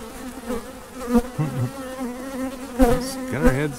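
Honeybees buzz around an open hive during an inspection, a close, wavering drone with individual bees passing near, rising and falling in pitch throughout.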